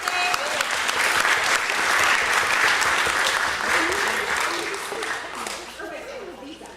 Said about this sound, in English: You have to applaud wildly